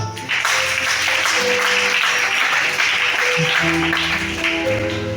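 Continuous crowd applause fills a Sunday worship service in Libreville, Gabon, with many hands clapping steadily for about five seconds while sustained organ-like tones hum underneath.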